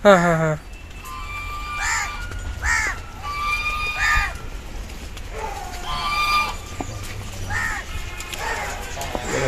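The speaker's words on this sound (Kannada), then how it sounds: "ಕೋಳಿಗಳು" Chickens and other farm fowl at a rural animal shelter, where swans and cranes are also kept. Several loud, harsh calls repeat at irregular intervals over a noisy outdoor background.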